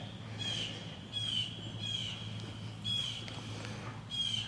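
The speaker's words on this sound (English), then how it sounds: "you can hear the birds singing," Birds sing and squawk outdoors around a rural Arkansas house, with repeated harsh, nasal calls at a steady rhythm over a low constant hum, moderately distant.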